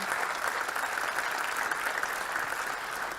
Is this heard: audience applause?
yes